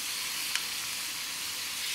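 Finely chopped onions and carrots frying in a hot wok, a steady close-up sizzle with one brief sharp crackle.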